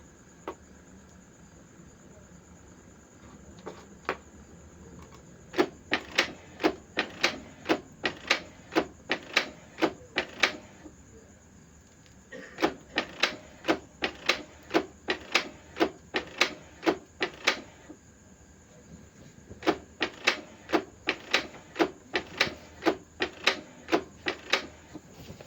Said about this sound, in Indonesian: Kita coba print nozzle cek teman-teman.